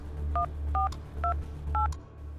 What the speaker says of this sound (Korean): 카와다는 자기 휴대폰으로 아버지에게 전화를 걸기 시작했다